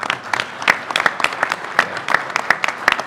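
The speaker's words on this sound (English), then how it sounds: "If you can give him a round of applause." Audience members at an industry gathering clap in a modest round of applause, with distinct individual claps in a loose, steady rhythm, fairly close and moderately loud.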